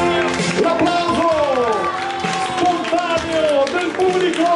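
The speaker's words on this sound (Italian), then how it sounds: "L'applauso" Spontaneous applause from an audience at a San Matteo karaoke evening, a steady wash of clapping that stays loud and continuous throughout, mixed with tonal music or singing.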